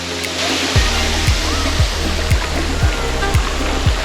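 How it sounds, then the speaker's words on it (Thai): Rushing water roars continuously like a waterfall, with rhythmic low thumps recurring about every half second beneath it. "มีน้ำตกด้วย"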